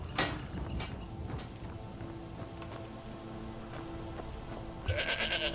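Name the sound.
goat bleating in Skyrim video game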